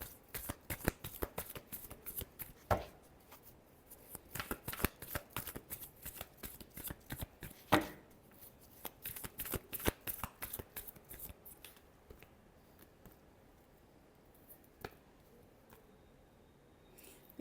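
A deck of tarot cards is shuffled close by, with a long run of rapid, crisp riffling flicks and soft slaps that thin out toward the end, and no one speaking.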